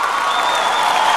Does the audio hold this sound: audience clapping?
yes